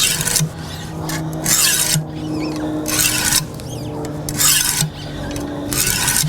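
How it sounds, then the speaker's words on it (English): A knife is honed on a 200 grit stone in a Wicked Edge WE130 sharpener, a steady, close rhythm of gritty rasping strokes, one after another, about six passes alternating sides. "I'm going to use the 200 grit, and we're just going to use a motion like that on both sides."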